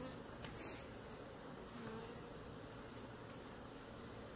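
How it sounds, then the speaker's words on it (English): Honey bees buzzing in the air around a backyard beehive in Oklahoma, a continuous dense hum that stays steady and fairly close throughout, with no talking. "There's a lot of bees in the air right now."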